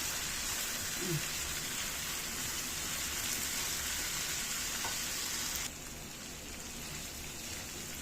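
Peppers frying in a hot pan for Alexandrian-style liver, a dense, steady sizzle like rain on a surface, loud and close, easing slightly in intensity partway through.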